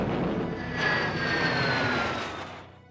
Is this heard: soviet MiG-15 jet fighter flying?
yes